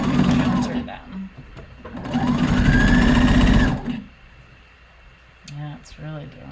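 A domestic sewing machine stitches fabric in a livestream workshop, with bursts of fast, even mechanical whirring that start and stop. Someone talks in between the runs.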